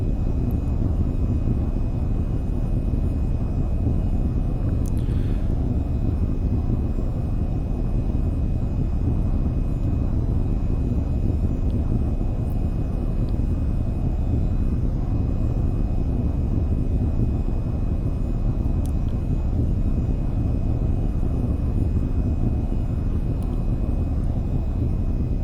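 Steady, loud engine drone from an aircraft taxiing along a runway in the flight game VTOL VR, a continuous low rumble with faint wind noise, running unbroken with no talk.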